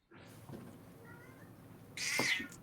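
A cat meows once, a short sharp cry near the end, over a quiet room background with no talking.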